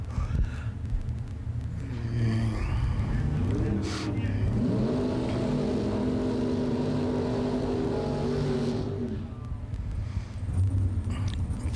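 Mopar drag racing cars accelerate hard in a bracket race, a sustained loud engine roar with rising revs and gear-change pitch sweeps, then fading away.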